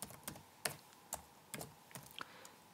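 Sparse keystrokes on a computer keyboard while entering code, about eight crisp, separate key clicks at an uneven pace, close and fairly quiet with no talking.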